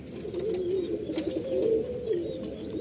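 High-flying pigeons, Chennai, Andhra, Malwai and Madrasi breeds, coo softly in a loft, a few close overlapping throaty calls in quiet surroundings.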